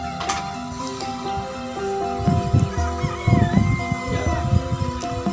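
Serama hens clucking amid the bustle of a poultry market in Kupang, Surabaya, with several short bursts of birdsound over steady background hum and chatter.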